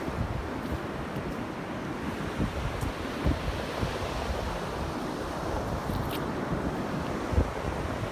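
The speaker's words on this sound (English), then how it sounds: "Super windy." Strong wind buffets the microphone in a steady, roaring rush, with waves breaking on the shore beneath it.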